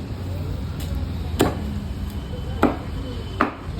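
A Bengali fishmonger at a shop in Bangalore cuts fish, mostly rohu, into pieces. Three sharp chopping thuds land at irregular intervals against a busy market murmur.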